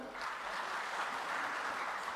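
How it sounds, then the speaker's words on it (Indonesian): An audience at a regional award ceremony applauds with steady, even clapping that sounds faint and somewhat distant and carries on throughout. "Kita berikan tepuk tangan juga."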